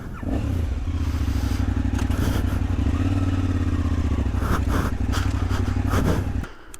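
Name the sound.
motorcycle engine running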